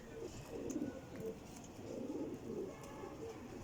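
Pigeons coo softly in low, rolling phrases, a few repeated calls spaced out against a quiet background, with no talking.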